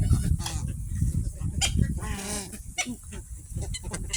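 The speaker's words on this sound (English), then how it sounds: "Look at all these birds" A flock of birds, likely geese, is being fed outdoors. Loud, overlapping honks and calls come close together in a busy, continuous chorus, with no talking.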